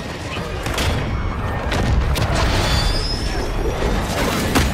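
Video game killstreak fire-mission explosions thud and crack repeatedly in a dense barrage of booms, with game voices and chatter running under them.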